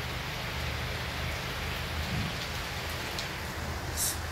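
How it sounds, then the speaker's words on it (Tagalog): Steady heavy rain pours down near a house under construction, a dense continuous hiss of drops hitting surfaces, close and unbroken throughout with no voices. "Ngayon talagang maulan talaga."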